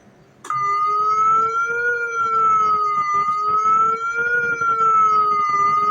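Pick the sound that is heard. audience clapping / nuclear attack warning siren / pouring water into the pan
nuclear attack warning siren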